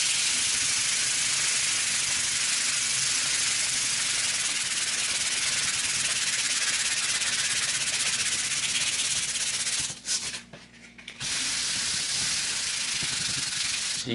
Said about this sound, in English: you're just going to take your sandpaper, and you're just going to go until it is smooth